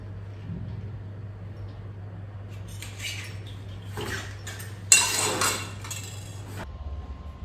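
Dishes and utensils are washed in a sink at a rural home, with scattered clinks and scraping of metal pots against a steady low hum, ending in a louder burst of clattering and rinsing.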